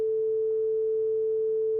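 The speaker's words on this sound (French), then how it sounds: "on va appuyer sur la tonalité de test" A steady pure sine test tone from a PC sound card on an ASIO driver holds at one pitch, quiet and unbroken, with nothing else heard.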